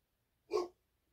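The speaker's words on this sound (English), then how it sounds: "that's my dog barking." A dog gives one short, muffled bark in the background indoors, a brief isolated burst in otherwise near silence.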